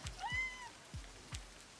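A cat in a visual novel game gives a single short, rising meow, faint against a quiet backdrop punctuated by a few soft, low thuds like drops.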